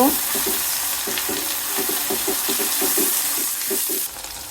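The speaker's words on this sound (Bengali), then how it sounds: "আদা রসুনগুলো ভালো করে একটু নেড়ে মিশিয়ে নিব" Ginger garlic paste sizzling with onions in a pan, stirred by a spoon in a rapid rhythmic run of scrapes and knocks over a continuous frying hiss.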